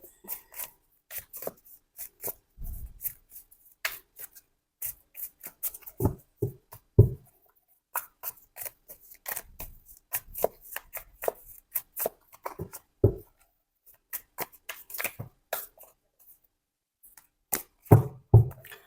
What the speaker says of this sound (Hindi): थोड़ा सा मेरे को आज ज़्यादा शफल करना है